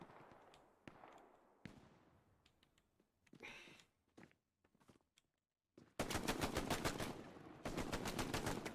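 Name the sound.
full-auto machine gun fire in a video game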